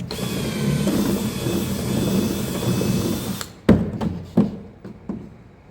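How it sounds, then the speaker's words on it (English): A power drill whines steadily for a few seconds drilling the heads off canoe rivets, then stops, followed by several sharp metallic clanks and taps. "all I'm doing is drilling the heads off the rivets."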